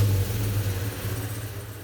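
An LS3 V8 engine with a dead cylinder, cranked and running, giving a loud, close, steady low rumble with a slightly uneven pulse, heard alone.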